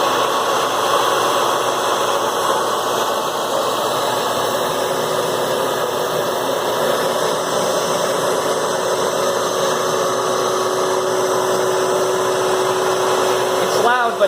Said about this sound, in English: Let's quickly do that with the shop vac so you can kind of get a comparison.